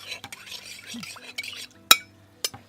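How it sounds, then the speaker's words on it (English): Stock solution for tanning fur skins stirred in a bowl by gloved hand, a few soft swishes and liquid movements with a sharp clink near the end, close and fairly quiet. "Just put that into your stock solution. Stir that in."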